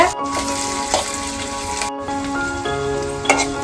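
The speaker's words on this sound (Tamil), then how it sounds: "வெங்காயத்தையும் மிளகாயும் சேர்த்து போட்டுருங்க. லோ ஃப்ளேம்ல வச்சுக்கோங்க." Steady, loud sizzling of onions and chillies frying in a pan on low flame, a continuous crackling hiss with occasional stirring clinks.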